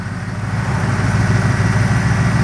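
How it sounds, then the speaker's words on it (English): A Range Rover engine fitted with an Edelbrock carburettor idles steadily in a workshop, a close, even, continuous rumble with no other sounds. "So it's running the Edelbrock carburettor."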